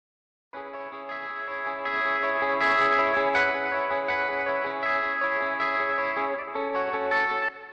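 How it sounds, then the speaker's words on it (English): Distorted guitar on a mix bus with a distortion effect pushed slightly too far, a sustained crunchy chord with gritty mid-range bite that starts after a brief silence and rings on steadily, with no voices. "I'll increase this until we get just a little bit too much distortion."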